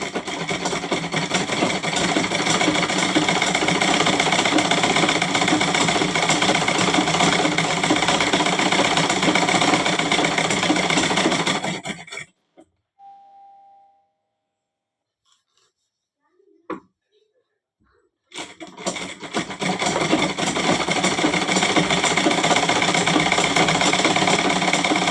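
A sewing machine runs steadily while stitching a lungi hem, a loud continuous mechanical whir that stops for several seconds with a few faint clicks, then starts up again.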